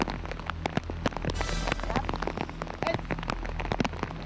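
Steady rain pours down outdoors near a cave, dense pattering drops hitting surfaces close by with scattered sharper splats, continuous and without voices.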